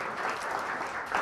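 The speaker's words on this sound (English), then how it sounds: "Let's give them a round of applause too." A short burst of audience applause at a county auditor's awards ceremony honoring high school students, a moderately quiet, even patter of clapping heard alone.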